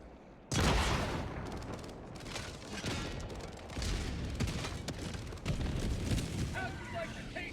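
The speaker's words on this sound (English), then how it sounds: "it did a pretty good explosion there" A spear missile strikes in Helldivers 2 with a sudden loud blast, followed by rumbling, crackling debris and further booming bursts over several seconds.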